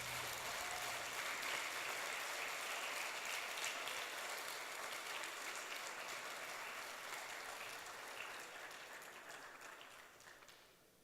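Sustained applause from a large church congregation, loud and dense, gradually fading out toward the end.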